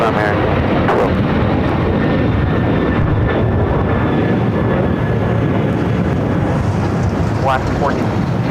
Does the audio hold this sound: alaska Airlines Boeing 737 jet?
yes